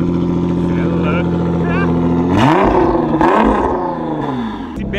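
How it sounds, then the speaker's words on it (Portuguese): A 730-horsepower Nissan GT-R R35 engine roars loudly nearby, its revs rising and falling in sweeping surges with brief sharp blips. "Galera, é muito alto o barulho desse carro."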